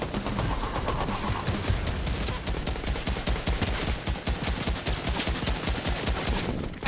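Rapid gunfire rattles in Fortnite as dense, fast bursts of shots run almost without a break, loud and close throughout.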